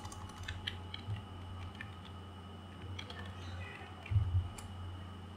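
Soft keystrokes on a computer keyboard tap out a short line of code, faint and intermittent over a low steady hum, with a slightly louder cluster near the end.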